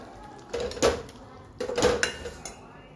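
Small potatoes are mixed in a metal cooking pot, with a spoon knocking and scraping against the sides in two short bursts of clattering, close and fairly loud, without talk.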